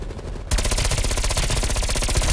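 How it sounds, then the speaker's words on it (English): Gunfire from several players in the Call of Duty Cold War Outbreak game, a sudden dense, continuous rapid-fire barrage that starts after a brief quiet moment and stays loud throughout. "All 4 of us just shoot at him."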